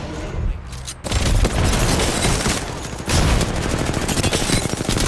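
Rapid gunfire from a ranked Apex Legends battle royale match, a dense, loud stream of overlapping shots and bursts that runs almost continuously, briefly thinning near the start and then resuming at full intensity.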